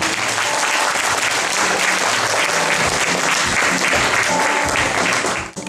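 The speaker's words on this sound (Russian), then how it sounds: "аплодисменты." Dense, sustained applause from a large audience at a family awards ceremony fills the space loudly and evenly, cutting off abruptly at the very end.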